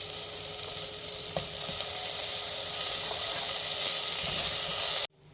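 Broccoli and potato sautéing in butter in a pan give a steady, close, dense sizzle with faint stirring clatter, running evenly until it cuts off abruptly near the end.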